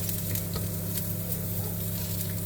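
Chopped onions for a quick chicken tagine sizzle loudly and continuously in a hot pan, an even dense hiss with a low hum beneath and occasional soft pops.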